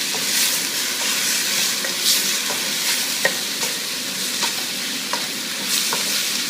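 Minced ginger and garlic fry in a pan with a loud, steady sizzle, while a spoon scrapes and stirs every second or so.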